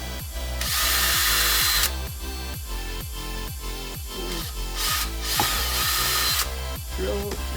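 A power drill bores holes through a project box for a Ram Mount iPad yoke fan mod, with loud close bursts of whining motor. Two long high-pitched drilling passes are separated by rhythmic grinding and clicking.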